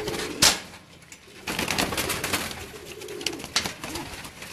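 Pigeons cooing at a keeper's loft in Multan, soft repeated coos near and far with a few sharp flutters or knocks in between, and no talk.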